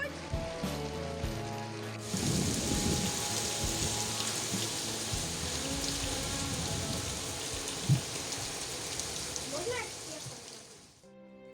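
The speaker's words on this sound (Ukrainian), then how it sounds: "Це у нас була просто страшенна злива." Heavy summer rain downpour in a village, a steady loud hiss of water on surfaces that sets in after a couple of seconds and runs on, with a single brief thump partway through and no clear thunder.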